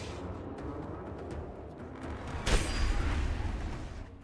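A boss explosion in the video game Outward erupts as a sudden loud burst partway through, then a rumbling roar that lingers over steady game noise.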